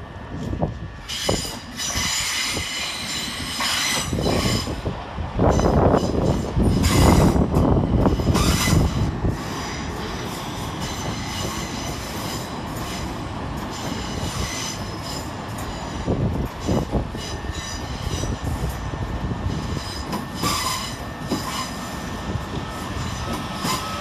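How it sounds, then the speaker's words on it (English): Two coupled Southern Railway class 377 units, 377111 and 377117, on the Dorking to London Victoria service roll into Clapham Junction, their wheels squealing and clattering over the rails as a heavy rumble swells, then settles into steady rolling noise. "creeping its nose around the corner is 377111 and 377117, working the 1754 Southern Railway service from Dorking to London Victoria"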